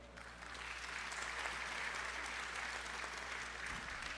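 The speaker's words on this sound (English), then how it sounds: "let's give him a round of applause" An audience at an anti-crime town hall meeting in a college hall claps in sustained, even applause, building slightly then holding steady for several seconds over a low background hum.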